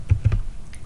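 A few quick, close keystrokes on a computer keyboard, an irregular cluster of taps followed by a pause and one more press, with no voices.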